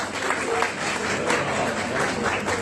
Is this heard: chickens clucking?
no